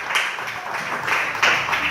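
A church congregation applauds in a steady, fairly loud patter of clapping that lasts a couple of seconds without letting up.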